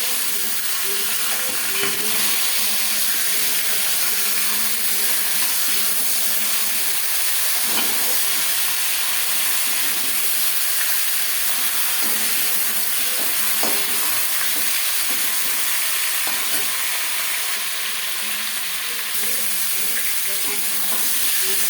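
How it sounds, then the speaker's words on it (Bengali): A fish head frying in a pan of oil, giving a continuous loud sizzle and crackle with occasional stirring clinks, steady throughout with faint voices beneath. "মাছের মাথা একটা সাইড ভাজা হয়ে গেলে অপর সাইডটা উল্টে দেবো"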